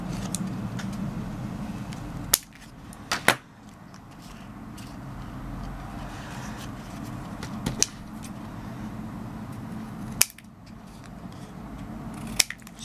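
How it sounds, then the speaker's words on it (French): A few sharp scissor snips cut a paper bookmark at a diagonal, brief crisp clicks spaced a couple of seconds apart over a quiet room hum, with no one speaking. "je vais le couper en biais"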